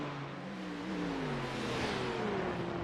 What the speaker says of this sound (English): the sound of those engines flying by here